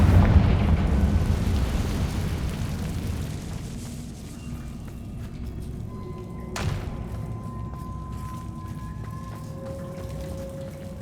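A single Confringo spell explosion in Hogwarts Legacy booms loudly at the start, then a rumbling decay fades into quieter ambience, followed later by a sharp crack and faint ringing tones.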